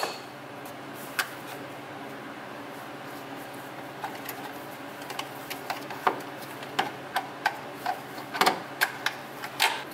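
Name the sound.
center punch hammered to drive in a dowel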